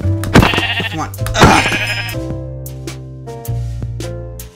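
Sheep in the Minecraft video game bleat repeatedly and loudly up close, with several wavering calls in the first half and more fainter bleats after, while a player briefly mutters over them.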